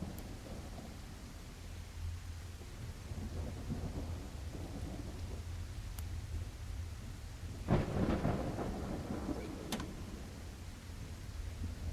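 Steady rain hisses throughout a Welcome to the Game III video game scene, and a deep roll of thunder swells partway through before fading back into the downpour.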